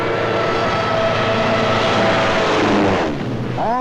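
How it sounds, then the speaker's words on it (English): A World War II-era dive bomber aircraft, its engine a loud continuous roar with a rising whine and shifting pitch, heard alone and close in old archival sound. "one of our own inventions, the dive bomber."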